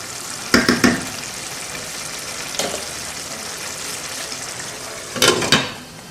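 Rice simmering in a pot of stew base gives a steady soft sizzle and bubble, broken by a few sharp clattering bursts of stirring or lid handling.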